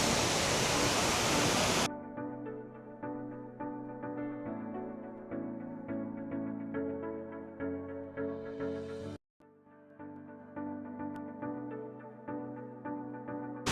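The broad, steady roar of Shifen Waterfalls in Taiwan is heard up close for about two seconds. It then cuts off sharply and music takes over for the rest.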